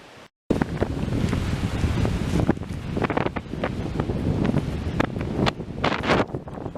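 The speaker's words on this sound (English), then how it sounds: "I can't breathe. It's so windy." Strong wind buffets the microphone on a cold, sandy shore, a loud continuous roar with gusty surges and a faint wash of waves beneath, after a brief silent gap at the start.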